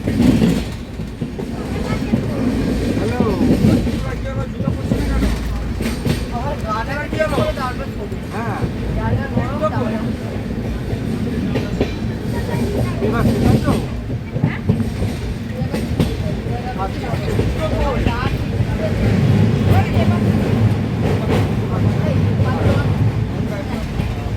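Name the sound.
train running on tracks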